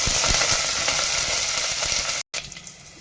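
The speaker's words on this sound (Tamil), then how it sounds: "2 minutes ஃப்ரை பண்ணலாம்." Garlic, curry leaves and green chili fry in oil in a pan with a steady, close sizzle, joined by occasional stirring scrapes, then a brief break before the sizzling resumes more quietly.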